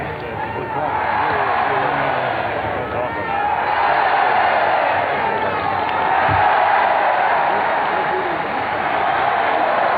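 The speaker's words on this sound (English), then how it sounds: "chant begins, more applause" Large crowd at the March on Washington applauding and chanting in greeting to Martin Luther King Jr., a loud continuous roar of clapping and voices with a narrator talking over it.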